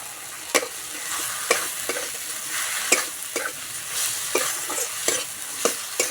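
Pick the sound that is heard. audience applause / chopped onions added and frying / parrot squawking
chopped onions added and frying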